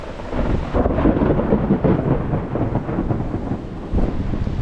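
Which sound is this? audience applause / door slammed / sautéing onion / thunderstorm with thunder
thunderstorm with thunder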